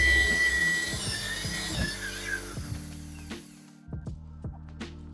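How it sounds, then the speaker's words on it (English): A power drill bores a hole through a wooden panel while a dust collector is held against it, giving a steady close whine with uneven grinding bursts before the motor cuts off and spins down. "hold the dust collector and just start drilling"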